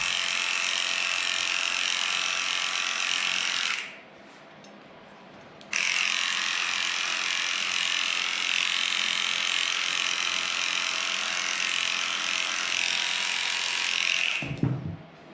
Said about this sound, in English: I'm going to shave the ears again.